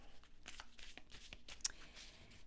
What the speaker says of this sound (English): Let me shuffle my cards.